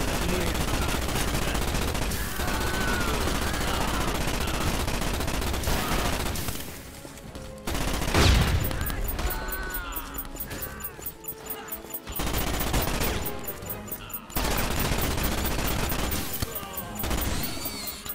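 Rapid gunfire and machine-gun bursts blaze almost continuously in the Starship Troopers video game, loud and dense, with a brief lull and a boom in the middle.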